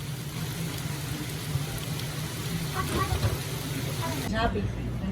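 Steady patter of rain drums on an RV roof overhead, a dense continuous hiss with a low hum beneath and faint voices near the end.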